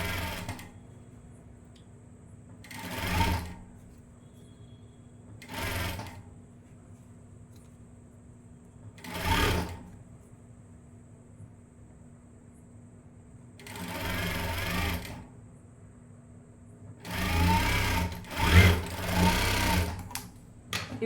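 A sewing machine stitches a blouse sleeve and side seam in short runs of rapid, close mechanical whirring, separated by quiet pauses, with a longer and louder stretch near the end.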